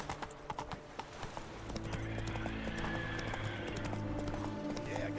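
Horse hooves clip-clopping in The Witcher 3, a quick regular trot of sharp taps that then gives way to a steadier gallop-like rumble under low game ambience, fairly faint.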